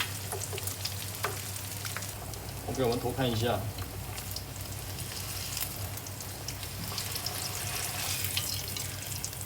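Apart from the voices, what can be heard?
pork skin deep-frying in oil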